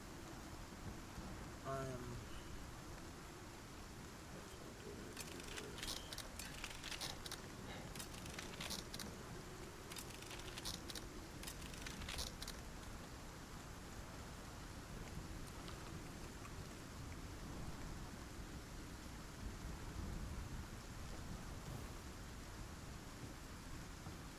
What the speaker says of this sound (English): Wait out this storm.